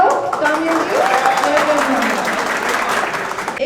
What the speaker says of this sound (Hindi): कितना इजी है, कुछ नहीं चाहिए, ताली बजाओ, कामयाबी।